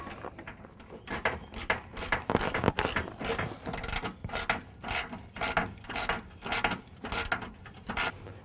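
A ratchet tightens a screw on a 2007 Toyota Camry radiator with plastic parts, giving loud, regular bursts of clicking in a steady back-and-forth rhythm, with no talking.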